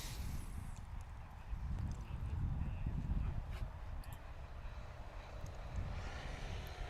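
A Kitfox Model 4 light aircraft coming in to land at a short-takeoff-and-landing practice in Creswell, Oregon, its engine a steady low drone that swells and fades slightly over a continuous background of wind and crowd noise.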